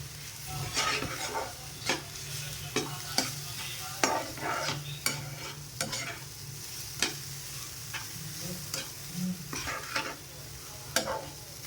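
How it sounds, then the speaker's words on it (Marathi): Onion, garlic and masala for egg bhurji fry in a pan with a low, steady sizzle, broken by a dozen sharp, close spoon scrapes as the mixture is stirred, with no talking. "आता हे सगळं हलवून घ्यायचं."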